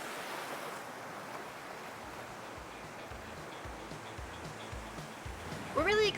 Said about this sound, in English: It's very windy here today,